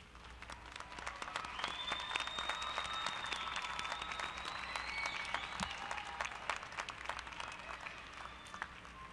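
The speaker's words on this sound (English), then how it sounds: "give them a big round of applause" Sustained applause from a commencement audience of graduates and their supporters, a steady dense wash of many hands clapping at an even level for about nine seconds, with a few faint voices and cheers mixed in.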